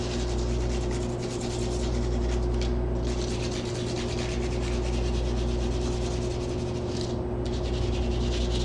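A red crayon colors a recycled-material craft project, rubbing back and forth in a continuous waxy scraping over a steady low background hum.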